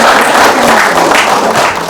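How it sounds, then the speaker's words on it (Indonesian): An indoor audience applauds at a lively Indonesian entertainment show, a dense burst of clapping from many people held at steady loudness for about two seconds. "Tepuk tangan dong."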